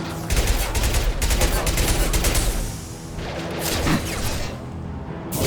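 Sustained gunfire in Mass Effect 2, a dense stream of rapid shots with heavy low thuds that eases off midway and then picks up again, with voices talking over parts of it.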